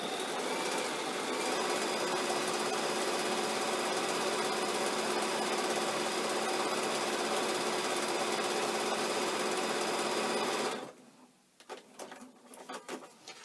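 Sewing machine running continuously as it stitches down the side of a fabric piece, a loud steady mechanical hum with fast needle chatter for about eleven seconds, then stopping abruptly into faint handling clicks and rustles.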